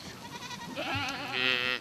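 Goats and sheep in an Altai herd bleat in close succession, several wavering calls overlapping near and loud over a short stretch, with no talk.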